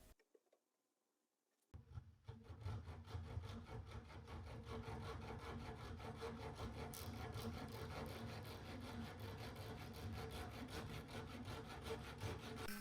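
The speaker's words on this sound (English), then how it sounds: "After you cut your handle, you want to make a groove so you're able to insert the spearhead." Groove cut into a wooden spear handle, steady scraping, rasping strokes close by that start after a brief quiet pause and continue rhythmically to the end.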